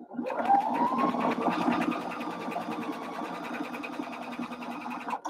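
A sewing machine stitches a cinch bag at a fast pace, its rapid, even needle clatter running continuously and close up, with a faint rising whir at the start.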